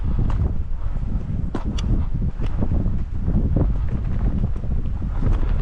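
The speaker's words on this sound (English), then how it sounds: "It's just a nice breeze blowing us along here." Steady breeze buffets a boat outdoors, a loud continuous wind rush with gusty rumble and faint rustling, no talk.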